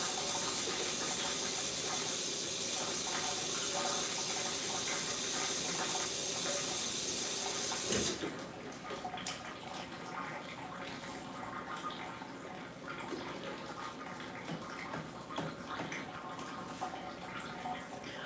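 Hot defrost water drains from a copper pipe on an air conditioning unit, a continuous hissing trickle that runs loud and then drops to a softer, uneven splatter partway through, with no voices.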